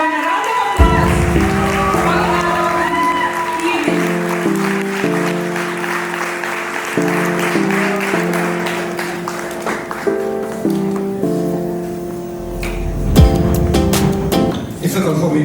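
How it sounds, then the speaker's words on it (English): Guests at an 80th birthday celebration applaud as an honoree is invited to speak, clapping spread under loud, steady music with sustained tones throughout. "Everyone, a round of applause."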